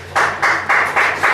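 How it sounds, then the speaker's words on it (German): Short bursts of clapping fill a press-conference room after a women's football match between 1. FFC Frankfurt and 1. FC Köln, coming as about five loud, evenly spaced swells. "der Applaus war auch für dein gutes Deutsch"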